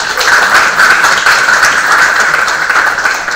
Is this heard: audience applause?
yes